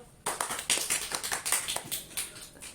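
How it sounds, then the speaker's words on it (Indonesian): Students in a classroom clap for a classmate, a burst of scattered hand clapping from a small group, close and lively, lasting a few seconds. "Tepuk tangan dulu"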